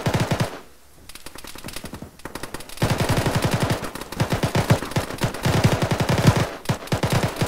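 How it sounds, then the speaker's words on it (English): Dense automatic gunfire from the tactical shooter game Arma rattles in long, rapid bursts, loud and close, with a brief lull before the firing resumes. "we're taking fire north and east"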